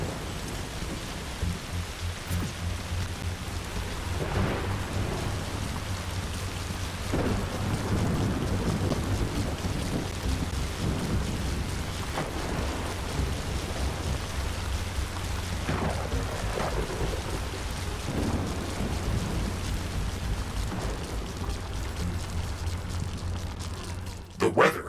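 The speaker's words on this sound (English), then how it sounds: "The storm is over." A steady rain and thunderstorm in The Riftbreaker video game hisses throughout, with several low rumbles of thunder rolling in and out over the continuous downpour.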